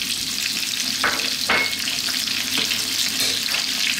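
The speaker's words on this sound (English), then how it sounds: "oil heating up is going to infuse the oil, give it a lovely flavour. And then to that we're going to add our onions." Onions fry in hot oil for lamb dopiaza, a loud, steady sizzle that continues throughout, broken by a few short stirring scrapes, close and without talk.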